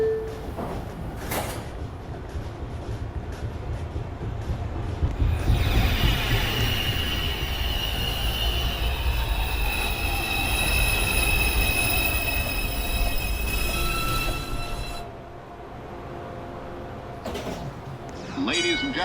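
NYC subway R142A 2 train, an express bound for Manhattan, rumbling along the track with drawn-out high wheel squeals through the middle stretch, while automated announcements and voices carry over the noise.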